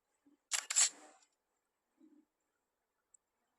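A phone's front camera fires its shutter for a selfie: one close, crisp burst of clicking noise, followed by a couple of faint taps in an otherwise quiet room.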